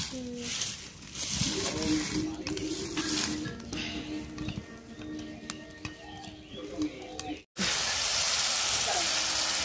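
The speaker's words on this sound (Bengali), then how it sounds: "দেখেন কিভাবে ফুটতেছে আর এই পাশে নুডলস রান্না করছি" Popcorn pops in a pan on a stove beside noodles cooking, with sizzling and scattered sharp pops, alongside a voice.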